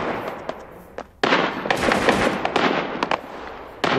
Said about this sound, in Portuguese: Tem muito tiro lá fora